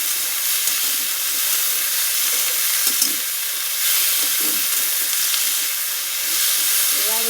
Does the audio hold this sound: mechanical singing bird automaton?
no